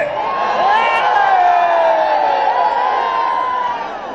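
Large crowd at a Ceylon Workers Congress political meeting roaring and cheering, a sustained loud wash of voices with whoops rising and holding for several seconds.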